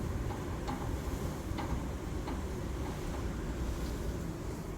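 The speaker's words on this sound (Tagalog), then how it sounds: "Magtingog-tingog gud ang among door sa kakusog sa hangin." Strong wind roaring steadily around a house, a dense, constant rushing noise up close, with a few faint knocks and rattles from a door shaken by the gusts.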